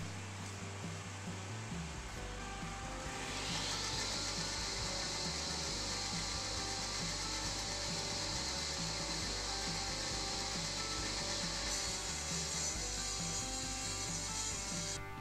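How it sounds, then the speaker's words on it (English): A table saw rips old barnwood lumber against a fence set at 2 inches, a loud sustained whining cut with a rough rasping edge that rises a few seconds in and holds steady, close up with no voices. "I set my fence to 2 inches and started ripping down the lumber."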